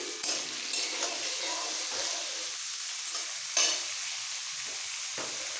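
Potato, carrot and cauliflower fry in oil for a mixed vegetable dish, giving a steady close sizzle broken by a few sharper scraping stirs.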